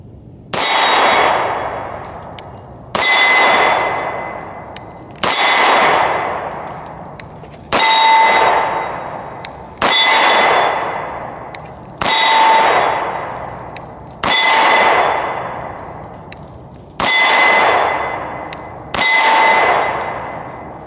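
Pistol shots from an H&K P2000 SK in .40 S&W hitting a steel target at an outdoor range: nine loud, evenly spaced clangs, each with a bright metallic ring that fades slowly before the next shot.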